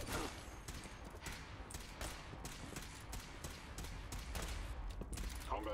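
Rapid minigun fire from a synth in the Fallout 4 video game, a faint, steady stream of shots with a rattling rhythm and combat noise underneath, heard alone without talk.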